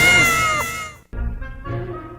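A cat meows loudly twice, a long drawn-out call followed by a shorter one after a brief gap, with no talking.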